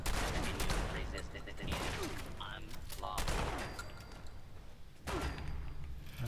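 Rapid bursts of gunfire from Fallout 76 crack out repeatedly in loud clusters, aimed at the player, with thuds between volleys and a voice talking faintly underneath.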